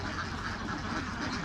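Ducks kept in confinement on a laying-duck farm, a flock quacking together in a dense, continuous babble, faint and brief.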